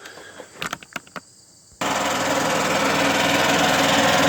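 A Yamaha G9 golf cart engine starts after a few clicks and knocks, then keeps running at a steady, loud, close drone.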